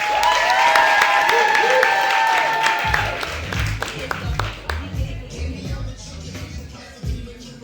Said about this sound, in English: make some noise, round of applause for Christian Davis